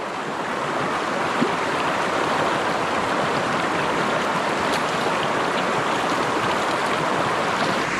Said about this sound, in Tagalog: Ang current po ng ilog sa amin malakas.